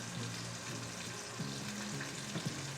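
Thickening heavy cream sauce bubbles and sizzles steadily in a hot pan, with soft scraping strokes of a utensil stirring through it, close up and continuous.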